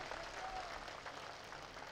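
Applause from a rally crowd in Taranagar, Rajasthan, a dense steady wash of many hands clapping at moderate distance, sustained throughout with no voices standing out.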